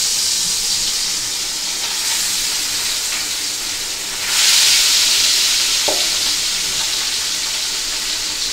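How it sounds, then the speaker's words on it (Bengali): Pieces of fried rohu fish going into hot oil in a home kitchen, giving a steady loud sizzle and hiss with stirring sounds, swelling briefly louder midway as more pieces are added. "তেলও গরম হয়ে গেছে। এখন আমি মাছ ভাজাগুলো দিয়ে দিব।"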